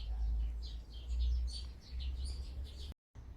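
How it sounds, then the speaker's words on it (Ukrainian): Faint birds chirp and tweet intermittently among sage plants in a rose garden, over a low rumbling background, soft high calls scattered throughout before a brief cutout. "Пташки радіють життю пташки."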